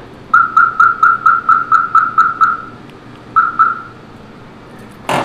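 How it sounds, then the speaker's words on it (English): A Viper alarm on a 1968 Datsun Roadster sitting on blocks gives its warning chirp: a quick, loud run of about nine identical chirps, a brief pause, then two more, ending with a sharp click. "normally that would actually go full alarm when I open the door like that. That was just a warning chirp."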